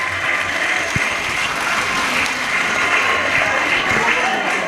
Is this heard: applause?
yes